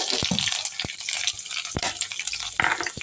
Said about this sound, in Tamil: கடுகு சீரகமாக தாளிக்கிறதுக்கு எண்ணெய் நல்லா காஞ்சிச்சுங்க கடுகு உளுத்தம் பருப்பு காஞ்ச மிளகா பூண்டு